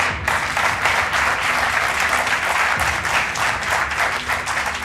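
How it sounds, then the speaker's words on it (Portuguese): Studio audience on a TV quiz show applauding steadily, a dense, loud wash of clapping that holds at an even level for about five seconds, with no speech over it. "Um aplauso para eles."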